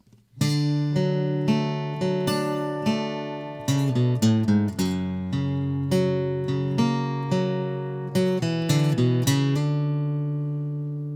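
Bright acoustic guitar with a capo strumming open chords with ringing strings and quick note changes, played alone and close, each strum decaying before the next.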